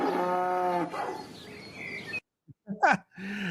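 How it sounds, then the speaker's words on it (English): A played cow-moo sound effect gives one long, loud, low moo close up, followed by softer bird-like chirps and brief sounds after a short silence. "But here's the cow"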